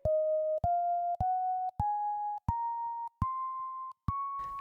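Seven evenly spaced pure tones climb step by step through a major scale in a slightly higher key, each note clean and sustained with brief gaps between, fairly quiet and alone.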